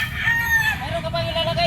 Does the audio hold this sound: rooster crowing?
yes